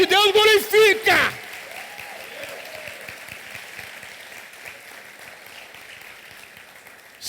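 A church congregation bursts into sustained applause, a dense wash of clapping that carries on after a loud voice speaks over the opening moments.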